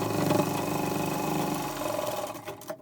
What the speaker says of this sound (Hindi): तो एक सिलाई हम और लगा लेंगे।